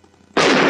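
A small bomb going off in a Tagalog-dubbed action comedy film: after a quiet lead-in, a sudden loud broadband blast erupts and holds at full strength as a sustained roar.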